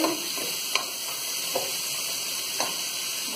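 Vegetables and seasoning sautéing in a pan for farofa, a steady close sizzle with a few sharp clicks of a spoon stirring against the pan.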